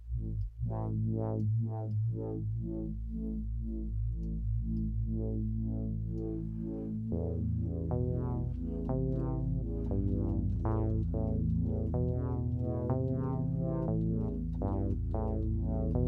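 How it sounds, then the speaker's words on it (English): Synthesizer sound in Logic Pro whose filter cutoff is swept by a sine-wave modulator, giving a steady sustained tone that slowly opens and closes in brightness, loud and continuous with no talking. "I think I will do just a sine wave instead of the random."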